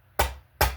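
Two sharp metallic taps of a socket driving a large-diameter crankshaft oil seal into place, close and distinct, spaced about half a second apart.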